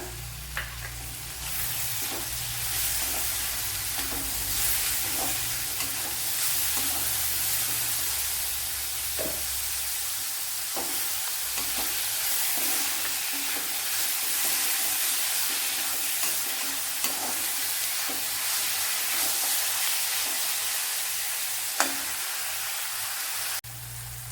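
Onions and chopped tomato frying in a pan for a Kerala chicken pollichathu, a steady, dense sizzle with occasional soft stirring scrapes throughout.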